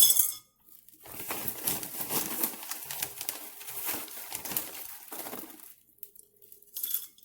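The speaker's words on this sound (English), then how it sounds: "I'm going to just scoop it into the pot" Orchid potting media is scooped with a spoon into a bowl, making dry clinking, rustling scrapes in irregular bursts with short pauses, close and moderately loud.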